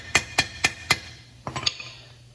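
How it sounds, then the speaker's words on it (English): Hammer blows driving a bushing into a transmission extension housing: four evenly spaced sharp metallic taps, then a quicker cluster of lighter strikes, close and alone. "now I could drive this bushing down"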